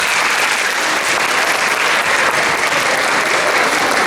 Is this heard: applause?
yes